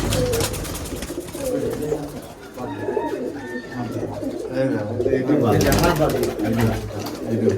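Black Giribaz pigeons at a loft, low cooing mixed with flutters and the rustle of birds being handled, while someone talks over them throughout.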